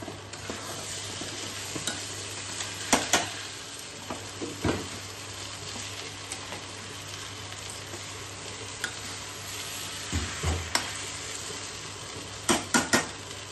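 Dalia, oats and vegetables are being sautéed in a pan for khichuri: a steady sizzle with a spoon scraping and clinking against the pan every few seconds, close and fairly loud, no voices.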